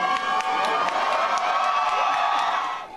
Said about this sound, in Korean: 우리 최선을 다한 선수들에게 힘찬 정의의 박수를 부탁드리겠습니다